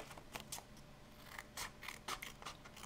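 Scissors snip through fabric in a quick irregular series of close, crisp cuts, heard alone in a quiet room.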